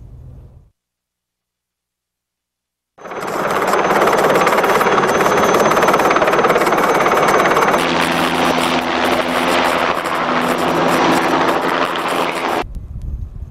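A helicopter runs up close by, its loud, steady rotor and turbine roar holding for about ten seconds after a brief quiet start, with wind buffeting the microphone and no one speaking.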